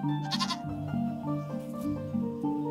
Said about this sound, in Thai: ขอแพะสัก2ตัว